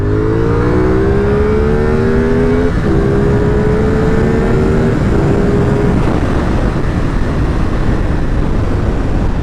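A CF Moto 450SR motorcycle revs up loud and close, its pitch climbing, dropping at a gear shift, then climbing again, with a steady roar throughout.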